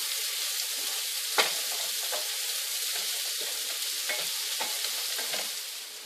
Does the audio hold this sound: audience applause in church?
no